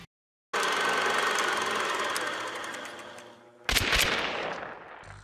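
A Springfield Krag bolt-action rifle fires in a video game: a sustained rumble fades, then a sharp, loud blast rings out near the end.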